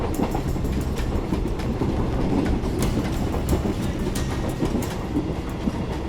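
A moving train runs on its rails with a continuous rumble and a rhythmic clickety-clack of wheels over joints, heard close and steady throughout with no talking.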